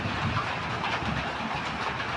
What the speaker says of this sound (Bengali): আকাশ খুব ডাকতেছে